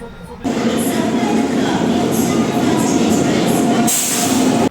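Steady, loud rumbling and rattling of a moving train heard from inside a carriage, continuous throughout.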